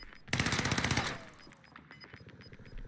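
Rapid automatic gunfire in Call of Duty Warzone on Rebirth Island, a dense burst of shots lasting under a second, followed by quieter scattered game sounds.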